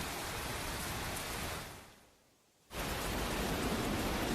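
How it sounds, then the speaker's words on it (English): Steady hiss of rain in the video game Tales of Berseria, a broad even wash that dips and briefly fades out before returning at full strength, with no talking. "Say it starts to rain. And then you shall receive rain."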